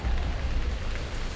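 Steady rain falls in a continuous low, broadband wash, even and unbroken throughout with no individual drops standing out and no voices.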